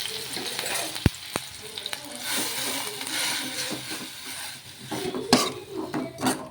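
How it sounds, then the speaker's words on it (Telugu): Grated carrot and apple frying in hot ghee for apple payasam, a steady close sizzle broken by a few sharp clinks of a spoon or spatula against the pan. "నెయ్యి వేసుకుని అది వేడెక్కాక ఇప్పుడు మనం తురిమి పెట్టుకున్నాం కదా క్యారెట్ని యాపిల్ని అది వేసేసుకోవాలి వేసేసుకొని బాగా ఫ్రై చేసేసుకోవాలి"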